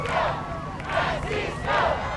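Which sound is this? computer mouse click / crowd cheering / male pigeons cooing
crowd cheering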